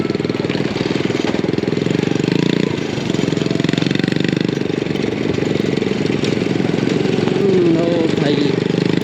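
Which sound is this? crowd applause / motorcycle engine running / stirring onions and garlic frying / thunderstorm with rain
motorcycle engine running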